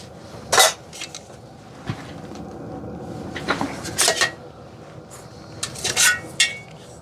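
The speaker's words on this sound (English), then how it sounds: "There's your two pots, the big one and the small one." Camping cookware pots, a large and a small one, clatter and clink as they are handled and set up, with several sharp metallic knocks spread over a steady background hum.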